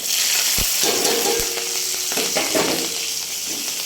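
Garlic and green chili hit a hot pan with oil, hissing in a loud, steady sizzle close up, with a few soft stirring scrapes and clicks, and no voices.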